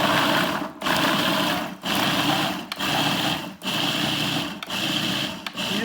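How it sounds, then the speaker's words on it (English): A Wolfgang Puck food processor grinds cranberries in a loud, steady motor whir, broken into several pulses with brief dips between bursts, close up and with no voices. "And I'm just using a Wolfgang Puck food processor that I've had for years."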